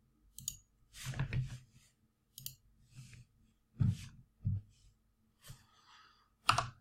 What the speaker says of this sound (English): Clicks on the keyboard to bring it up.